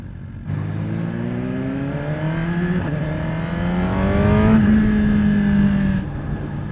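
A Suzuki GSX-R1000R sport motorcycle engine revs loudly and close up through gear shifts, its pitch climbing, dipping at each change and climbing again without a break.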